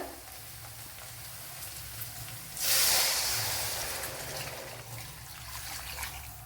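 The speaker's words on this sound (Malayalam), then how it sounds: "വെള്ളം ഒഴിച്ചു കൊടുക്കുക." Water poured into a hot pan of semiya upma sets off a sudden loud hissing burst that slowly fades back to a low sizzle, heard alone without talk.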